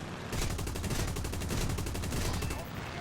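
Aircraft machine guns on a Morko-Morane fighter in the combat flight game War Thunder, a dense, rapid, continuous burst of gunfire lasting nearly three seconds, loud and close with a rattling pulse.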